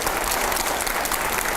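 A studio audience at a televised debate claps loudly and densely in a brief, continuous burst.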